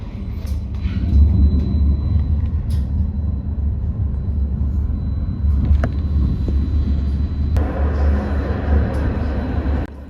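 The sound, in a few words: Bergen Bybane light rail train running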